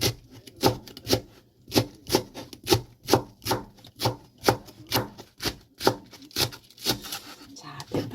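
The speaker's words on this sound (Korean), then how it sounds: "얼른 썰기 해 주세요." Knife chopping green onion on a cutting board in a home kitchen, a steady run of about twenty sharp, close chops in quick rhythm, heard alone.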